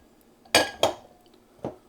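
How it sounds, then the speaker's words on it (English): Two quick thuds in the metal pot of a Ninja soup maker as chicken breast is dropped in, then a third lighter knock a moment later. "Next we're going to add in the chicken breast."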